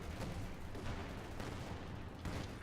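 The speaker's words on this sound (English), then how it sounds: "Pak-43 continues to shoot." A Pak-43 anti-tank gun keeps firing in the video game Company of Heroes 2, its shots merging with dense, distant battlefield gunfire into a steady, fairly faint rumble of repeated blasts.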